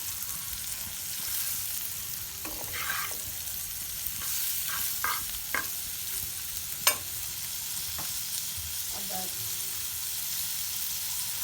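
Cauliflower with prawns fries in a pan, a continuous sizzle under scattered spatula scrapes and clinks, with one sharp metallic knock standing out midway.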